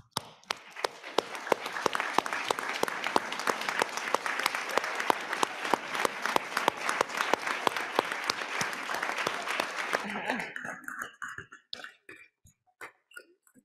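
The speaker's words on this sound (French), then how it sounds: "je vous invite à vous lever, s'il vous plaît, pour qu'on puisse vous applaudir" Audience applauding honoured guests at a community report event, sustained clapping from a crowd that builds quickly, holds steady for about ten seconds, then thins to a few scattered final claps.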